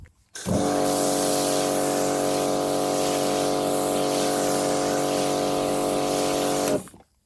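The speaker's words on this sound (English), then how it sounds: "I'm going to use a narrower spray pattern." An MJJC Foam Cannon Pro sprays foam in a narrow pattern, a loud, steady pressurized hiss continuing for several seconds with a strong motor-like drone underneath, starting and stopping abruptly.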